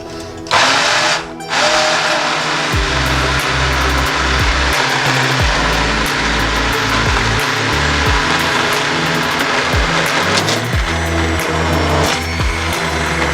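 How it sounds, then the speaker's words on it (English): A hand blender whirs steadily and loudly, its motor pitch shifting and dipping repeatedly as it works through a thick curry lentil soup, with no voices. "So now I'm gonna blend it with the hand blender"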